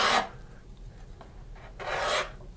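A steel card scraper rasps across a wooden Shaker table part in two firm strokes, a short one at the start and a longer one near the end, close and dry with quiet room tone between.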